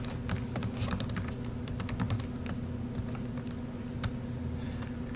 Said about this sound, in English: go ahead and type this stuff in.